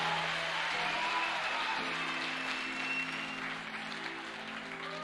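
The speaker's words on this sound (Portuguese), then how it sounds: "Dá uma salva de palmas e fique de pé no seu lugar." A church congregation breaks into sustained applause during an evening worship service, dense and continuous clapping filling the room and easing slightly toward the end, with no clear voices on top.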